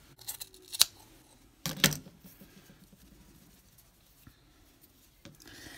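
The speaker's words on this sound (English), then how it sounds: "You're going to trim it up exactly the same way as you did your other pom-poms." Scissors snip through the yarn of a pom-pom being trimmed: two sharp, close cuts early on, then a few faint snips and light handling noises in a quiet room.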